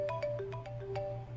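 A cellphone ringtone in a radio drama, a short electronic melody of bright beeping notes over a low hum, moderately loud with no talking.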